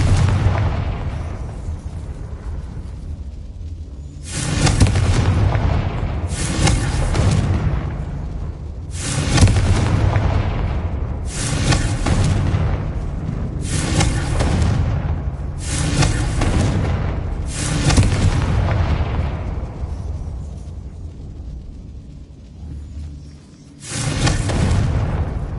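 Confringo explosive spell blasts in Hogwarts Legacy land as a rapid series of about eight loud, booming explosions at roughly regular intervals, each with a sharp attack and rumbling tail, nearby and without talk.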